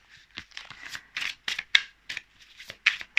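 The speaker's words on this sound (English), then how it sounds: "It's like I'm shuffling only the major arcana cards." Tarot cards from the major arcana being shuffled by hand, a close, crisp run of riffling snaps and flicks in irregular bursts with no talking.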